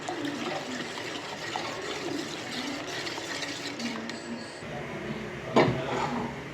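Water is poured from a large glass into ragi flour in a pan for porridge, a brief gurgling splash close by, heard alongside a voice talking.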